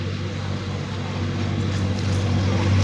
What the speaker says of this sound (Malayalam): ഇപ്പോഴ് ബോട്ടിൻ്റെ ഫ്രണ്ടിലായിട്ടൊരു ഹൗസ് ബോട്ട് വരുന്നത് കാണാം